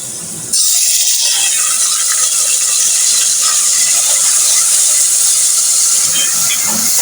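Spice masala sizzling hard in a hot pan with tomatoes for an arbi (taro root) salan curry, a loud, steady hiss that bursts in after half a second and holds for the rest of the clip.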